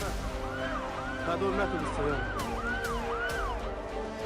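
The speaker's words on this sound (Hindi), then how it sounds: "तेल अवीव में लगातार सायरन बज रहा है।" Air raid sirens in Tel Aviv wail, rising and falling in a steady repeating cycle, loud and continuous, with a low rumble of background noise underneath.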